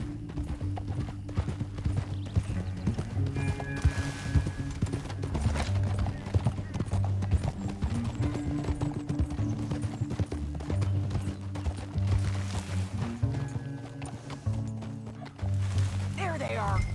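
Several horses trot with steady clip-clop hoofbeats in the game Red Dead Redemption 2, alongside game music, a brief whinny and some talk.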